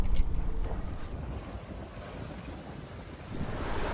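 Sailboat halfway across the open-sea channel to St. Lucia with the wind near the beam: loud, constant roar of wind buffeting the microphone mixed with rushing waves against the hull, surging at the start and end.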